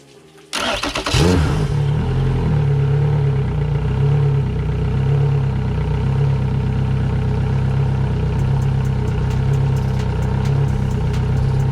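A Yamaha F115 outboard motor on flushing muffs cranks briefly, catches and settles into a steady, loud idle with a low drone and faint ticking, no talking.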